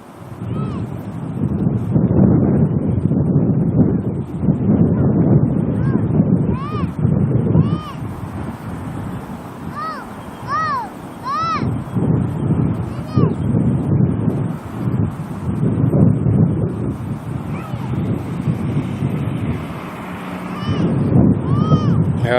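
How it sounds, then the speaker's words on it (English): Strong gusty wind buffets the microphone at a plane-spotting spot by Auckland Airport, a loud, steady roar lasting throughout, with a voice talking beneath it. "It's very windy up here too."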